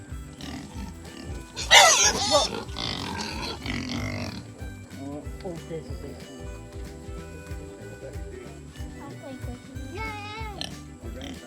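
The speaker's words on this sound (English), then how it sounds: "Look at that little piglet!" A piglet oinks and squeals in a loud burst near the start at an Alabama home, followed by quieter grunting under steady background noise while adults and children talk throughout.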